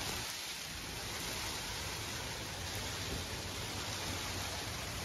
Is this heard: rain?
yes